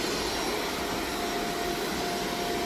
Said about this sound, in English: first thing on the agenda would be vacuum up a lot of this crap just to see what we can get up